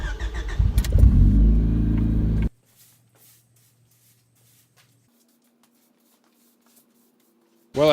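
Old rusty Honda Civic engine running loud and close for about two and a half seconds with a rough, throbbing idle, then cutting off abruptly into near silence with a faint low hum.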